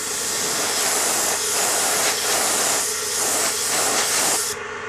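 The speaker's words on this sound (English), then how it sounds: "And I just spray it again." A spray gun spraying gloss black paint in wet coats hisses loudly in several long bursts with short pauses between passes, then cuts off abruptly near the end.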